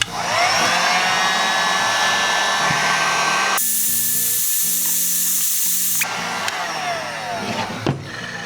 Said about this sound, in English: we're going to heat up the GoPro with this heat gun